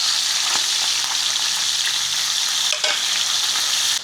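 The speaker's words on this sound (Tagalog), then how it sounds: "Habang nagpiprito po tayo ng ating Gigi" Gigi fries in a hot pan with a loud, continuous sizzle and crackle, close up, with a few stirring scrapes and no voices.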